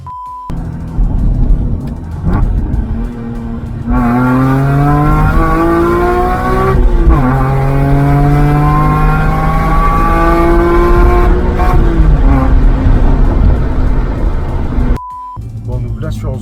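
A BMW M3 drifts around a cone. The engine revs loud and close in rising and falling harmonic sweeps, with tire squeal, and stays sustained through most of the run before dropping away.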